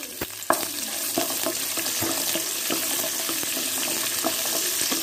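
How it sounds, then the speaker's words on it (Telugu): Onion, green chilli and ginger pieces fry in oil with chana dal and mustard seeds, a steady quiet sizzle with occasional taps and scrapes of stirring, no voices. "ఈ ఉల్లిపాయ ముక్కలు కొంచెం బ్రౌన్ కలర్ వచ్చే వరకు వేగనివ్వండి"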